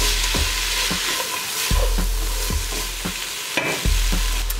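Scallions and carrots stir-fried hard in a hot pan, a loud steady sizzle punctuated by regular knocks and scrapes of the utensil roughly every half second, close up with no talking.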